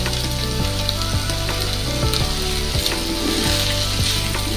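Prawn masala with sugar sizzles loudly and steadily in a pan, with a few soft scrapes of stirring breaking through the constant frying hiss.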